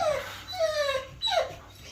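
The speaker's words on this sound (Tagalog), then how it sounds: "Ay, laki-laki yung aso." A large dog whimpering in a series of short, high, falling whines, close and fairly clear with quiet gaps between them.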